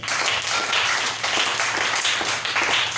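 A church congregation applauds together in sustained, steady clapping that surges in waves, filling the room loudly with no speech over it.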